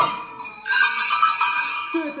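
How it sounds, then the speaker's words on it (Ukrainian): Carpathian duplak bells ring with bright, clear metallic tones that sustain and overlap, rising in a short cluster of chimes near the listener. "це є карпатські, бачите, такі дуплаки"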